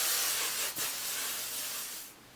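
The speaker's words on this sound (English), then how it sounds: "And then I take some hairspray and I start spraying" Hairspray aerosol sprayed onto hair, a loud close continuous hiss with a brief dip partway through, fading at the end.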